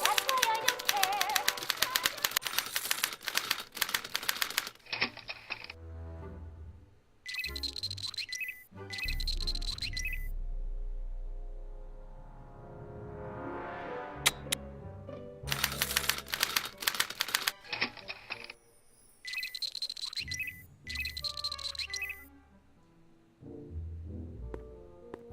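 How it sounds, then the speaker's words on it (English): Typewriter from an animated Back to the Future episode, a burst of rapid mechanical clacking and dinging amid music, effects and speech, with rhythmic keystroke runs recurring through the scene. "What's this typewriter do again?"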